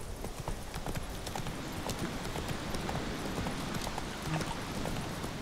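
Horse hooves clip-clop steadily in The Witcher 3, a continuous rhythmic trot of close, clear hoof strikes over ambient game noise, with a faint whinny-like hint and no speech.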